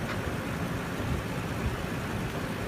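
A Range Rover engine idles steadily, a continuous low, even rumble heard up close with no talking.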